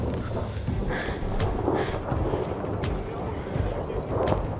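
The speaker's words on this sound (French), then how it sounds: "Ah mais en fait c'est des grelons hein." Thunder and hail storm high in the mountains at about 2337 m, a steady broadband roar of hail and rain with wind buffeting, punctuated by sharp cracks, with faint voices now and then.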